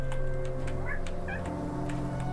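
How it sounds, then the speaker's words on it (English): Cats meowing impatiently indoors beside a video game, several short plaintive meows rising over a steady hum of game music and background noise. "Kitties are getting impatient."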